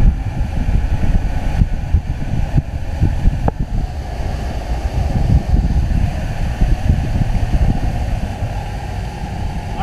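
A 2000 Jaws Lorequin 24 center console boat runs at about 35 miles an hour, with loud, steady rushing wind and water noise buffeting the microphone and masking the engine throughout.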